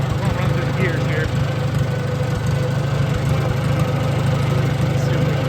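A Farmall Super A tractor engine runs steadily with a low, even rumble while being taken through its gears, someone talking over the constant drone.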